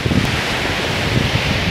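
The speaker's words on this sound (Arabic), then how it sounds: "دابا حنا راه في البحر، البحر الاطلنطي ها هو قدام هنا" Atlantic Ocean surf washing onto Sidi Ifni beach with steady wind buffeting the microphone, a broad continuous roar with a few swells rising and falling, no talking.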